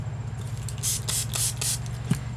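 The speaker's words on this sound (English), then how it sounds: "And then spray it." Several quick bursts of water from a spray bottle misting a gel printing plate, each a short airy hiss in a rapid row, close and fairly soft over a steady low hum.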